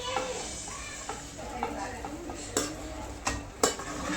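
Turmeric-and-salt precooked mutton tipped into a pot in a home kitchen, giving a few soft thuds and scraping clinks of a utensil against metal, with a faint sizzle underneath.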